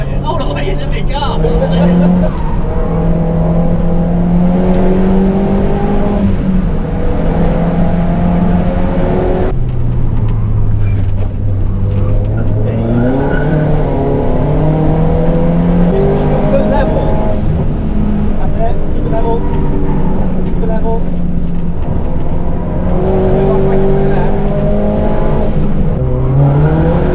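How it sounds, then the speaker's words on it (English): A Cupra turbo car's engine drones loud and close throughout, its pitch rising and falling as it accelerates, shifts and corners, with people talking over it. "Driving a turbo car."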